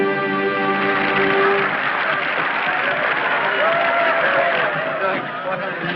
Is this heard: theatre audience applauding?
yes